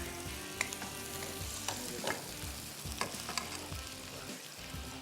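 Whole spices, bay leaf, cumin and black pepper, fry in a pan as garam masala, with a steady close sizzle broken by a few sharp clicks and stirring scrapes throughout.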